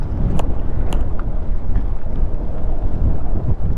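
Strong wind blasts across the microphone at Panchapalli dam, a loud continuous low rumble with gusty buffeting throughout and a few brief sharp knocks near the start, no speech.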